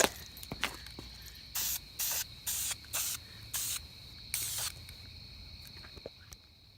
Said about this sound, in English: I will just fog some paint on to promote adhesion of the paint.